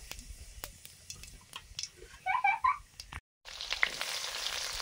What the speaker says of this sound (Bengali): সরষের তেল দিয়েছি, গোটা জিরে